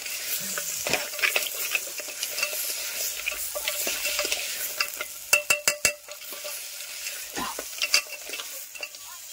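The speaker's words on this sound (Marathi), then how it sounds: "इकडे आपले मासे आहेत ना, ते फोडणीत घातलं बघा." Fish tipped into hot spiced oil tempering at a night campsite by a forest stream, sizzling and frying steadily while being stirred, with a few sharp clanks of utensil against pan midway; no talk.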